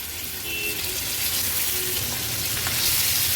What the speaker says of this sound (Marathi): आता एक एक करून या वांबीच्या तुकड्या आपण तेलावर सोडूया